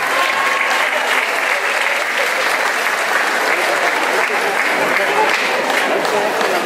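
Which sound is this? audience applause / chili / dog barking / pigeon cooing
audience applause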